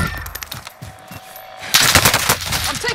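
Rapid automatic gunfire in Call of Duty: Modern Warfare, scattered shots at first and then a loud, dense burst of sustained fire in the second half.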